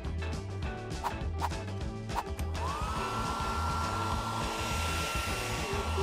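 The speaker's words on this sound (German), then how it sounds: "Ich sollte meine Haare föhnen." A hair dryer switches on partway through and keeps blowing with a steady airy whoosh and a high tone, close by, after some earlier clicks and rumbling.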